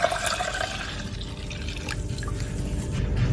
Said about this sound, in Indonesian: untuk kuah susu yang tadi sudah dingin, ini kita tuang semuanya